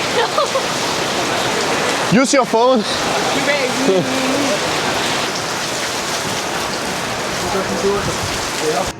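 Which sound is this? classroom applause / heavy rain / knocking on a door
heavy rain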